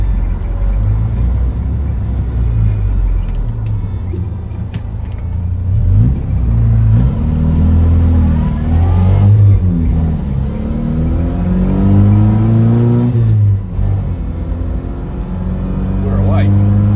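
A classic Morris Minor car is on the move, its engine droning steadily and rising in pitch as it accelerates and shifts, loud and close from inside the cabin, with a person talking over it.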